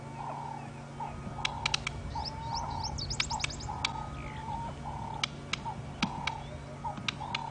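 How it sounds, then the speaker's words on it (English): On an early-morning safari game drive, a bird's sharp beak clicks and wing snaps come in scattered, irregular bursts among chirping birdsong, heard over a steady low vehicle hum. "Do you hear that wing, that beak clicking?"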